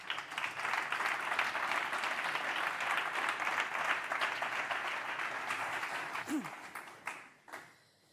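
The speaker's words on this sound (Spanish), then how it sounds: "Un aplauso para ella, por favor." Sustained audience applause at a sports-respect forum event, a dense steady roar of clapping that fades out near the end.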